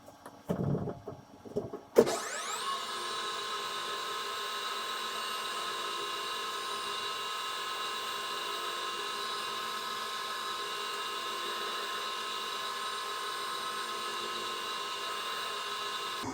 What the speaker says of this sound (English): So yeah, just about need to bury this drill bit in there.